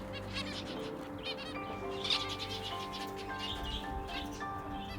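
Small finches chirp near a nest holding hatched babies, giving repeated high, thin tweets and short calls close by over a soft background hum.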